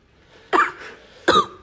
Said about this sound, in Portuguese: Começa a tossir que o choro tá acabando, né, filho?